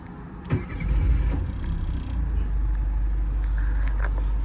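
A 1992 Mini British Open Classic with its 1275cc engine cranks briefly and catches, then settles into a steady, smooth idle that carries on alone, close and fairly loud.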